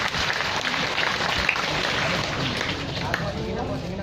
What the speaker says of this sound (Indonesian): Tepuk tangan semua untuk Mbak Yuli membawakan lagu ini.